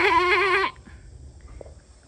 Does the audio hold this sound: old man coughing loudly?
no